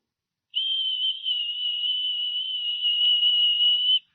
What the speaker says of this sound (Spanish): Un silbo apacible y quieto, y ahí estaba Dios.